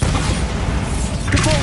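A booming explosion spell goes off in a Harry Potter video game, a dense, continuous roar of blast noise lasting under two seconds with a rumbling low end throughout.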